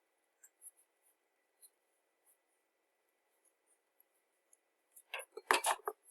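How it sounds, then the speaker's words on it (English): A cup on an art table tipping over, a faint scatter of small ticks, then a brief cluster of close clattering knocks near the end in an otherwise quiet room. "And my cup just fell over."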